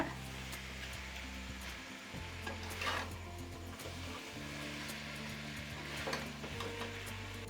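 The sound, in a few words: gently stirring and mixing a dish with coriander leaves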